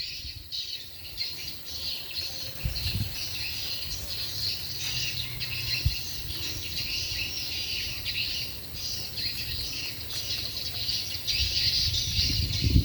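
Swiftlets chirp inside a countryside bird house in Vietnam, a dense, continuous chorus of high twittering calls, moderately loud, over a low rumble of background noise.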